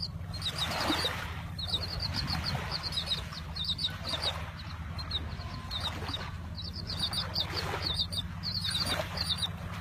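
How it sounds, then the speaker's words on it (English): Small seagulls chirp in quick high bursts at an outdoor waterside spot, repeating through the scene over a low steady hum, with occasional fluttering and rustling nearby. "you can listen to these little seagulls chirping away"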